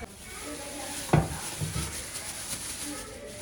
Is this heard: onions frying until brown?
yes